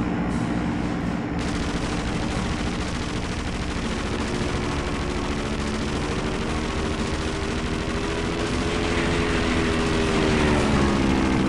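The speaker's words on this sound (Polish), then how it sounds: "Gdzie lecą samoloty? Słyszę, że coś nadlatuje, ale nie widzę." Propeller airplanes fly overhead in the video game Indiana Jones and the Emperor's Tomb, a loud continuous droning engine roar with a rising pitch that fills the scene, mixed with game sound effects and no talk.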